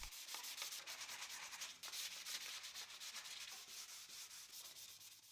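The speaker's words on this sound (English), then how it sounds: "The next sanding will be done using 320 grit sandpaper." Fine 320 grit sandpaper rubbed briskly over wood in a continuous, close scratchy hiss with rhythmic strokes and no voices.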